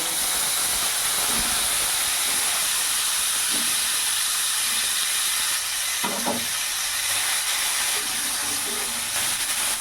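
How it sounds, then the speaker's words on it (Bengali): Cauliflower fries in hot oil with a steady, loud hiss and sizzle throughout, with a few faint clinks in the pan. "এবার ওই তেলের মধ্যে আমি এখানে ফুলকপিগুলো ভেজে নেব।"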